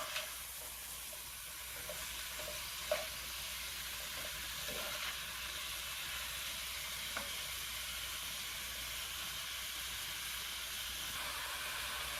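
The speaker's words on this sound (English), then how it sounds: "Okay, so my beef is cooking. It's sizzling away." Ground beef for Mexican chile verde sizzles steadily while browning in a pan, a continuous close hiss broken by a few faint clinks and scrapes from stirring, with no voices.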